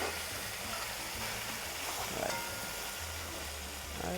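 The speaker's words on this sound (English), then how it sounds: "We're going to stir." A pork stew simmers in a pot over a fire and is stirred, making a constant close hiss and sizzle that holds steady throughout.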